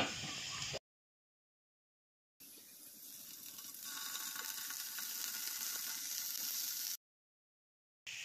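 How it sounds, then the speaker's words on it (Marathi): Paneer cubes frying in a pan on a gas stove give a steady bright sizzle that runs for several seconds between stretches of silence, with no voices over it. "आता आपल्याला हे आपलं पनीर फ्राय करून घ्यायचं आहे। छान असं गोल्डन करून घ्यायचं आहे।"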